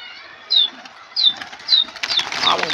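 A pigeon flaps its wings in several quick bursts as it lands, close and crisp, with a few sharp chirps near the end.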